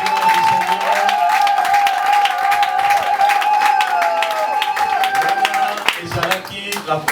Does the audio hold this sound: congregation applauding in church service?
yes